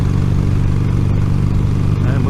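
A motorcycle cruises at about 50 mph with a loud, close low engine drone and rushing helmet wind noise, recorded through a rider's helmet microphone, with a rider talking over it.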